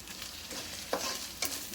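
Ginger and garlic frying in a pan for a catla fish kalia, a soft steady sizzle broken by a couple of sharp scraping stirs of a spatula, close and quiet.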